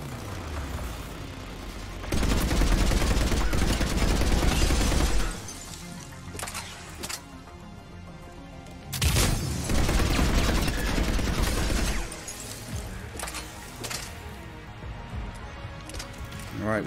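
Automated turret gunfire during a Mass Effect 3 firefight: two long, loud bursts of rapid shooting separated by quieter stretches of scattered combat noise and a few short sharp cracks.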